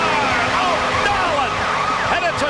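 A wailing NHL arena goal siren rises and falls in sweeping tones, loud and continuous, layered over a dense crowd roar inside the arena.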